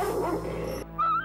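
A short dog bark or yip from a Naruto episode rises out of a busy, music-like background, fairly faint and brief, with no speech.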